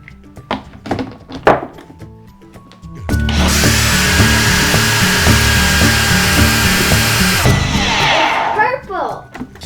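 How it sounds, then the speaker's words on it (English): A blender whirring through a berry smoothie, starting abruptly after a few knocks and clatters and running loud and steady for about four seconds before winding down, with voices around it. "Abby, blend away."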